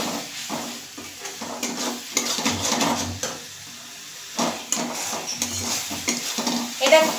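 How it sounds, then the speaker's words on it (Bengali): Tamarind water is stirred into tilapia fish curry in a pan, giving repeated scraping strokes of a spoon against the metal over a soft sizzle of frying oil, close up and without talk. "এবার আমি এটা খুব ভালো করে নেড়ে নিচ্ছি।"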